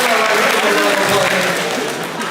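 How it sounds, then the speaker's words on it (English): An audience in a high school assembly claps together, a dense, loud burst of applause that holds steady and then tapers slightly toward the end. "Round of applause."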